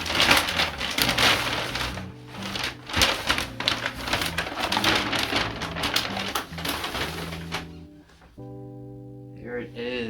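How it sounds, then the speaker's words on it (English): Wrapping paper torn and crumpled off a Golf le FLEUR* Globe-Trotter suitcase, close crinkling and ripping bursts in quick irregular runs, with a voice speaking near the end. "I think this is the final bit of wrapping paper."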